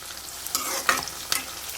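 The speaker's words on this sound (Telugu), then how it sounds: "పోపు ఇలా సిమ్లో పెట్టుకొని వేపుకోవాలి" Tempering spices fry on a low flame in a pan for a cluster bean curry, giving a steady close sizzle broken by a few sharp scraping stirs.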